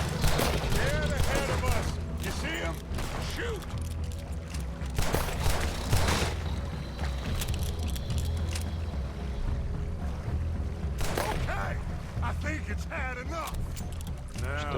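Gunshots in Red Dead Redemption 2 crack out during an alligator hunt from a boat on the water. Sharp reports land amid mechanical clatter and creaks, and voices talk over and between the shots.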